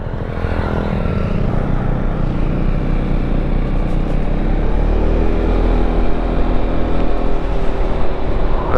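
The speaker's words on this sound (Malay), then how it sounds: "Santai memang sonok pakai Xmax. Sambil terkena angin petang." Yamaha Xmax 250 scooter ridden on an easy evening cruise, a loud, close, continuous engine drone mixed with buffeting wind, holding fairly steady with a slight rise toward the end.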